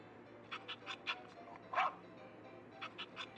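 A small dog's barks in a children's story sound effect, a series of short, faint, high yips spaced unevenly over a few seconds, heard alone.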